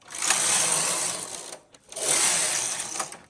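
A Knitmaster Silver Reed chunky knitting machine works tuck stitch rows, the carriage pushed across in two loud sweeping rattling passes with a short pause between.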